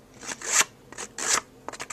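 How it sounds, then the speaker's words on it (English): A paper distresser scrapes along the edges of card paper in three quick rasping strokes, each a short scratchy rub, close and clear with no talk. "I'm going to take my paper distresser, and I'm just going to rough up the edges of this paper"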